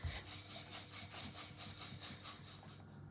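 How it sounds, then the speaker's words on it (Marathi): Moong dal paratha dough is rolled out with a rolling pin in rhythmic back-and-forth strokes, a soft, close, repeated rubbing and scraping about three times per second, steady and alone. "आता आपल्याला हलक्या हाताने पराठा लाटून घ्यायचा आहे."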